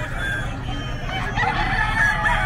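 Fighting roosters and chickens at a Bocaue pet market, crowing and clucking in a continuous dense din of many birds with a low crowd rumble underneath.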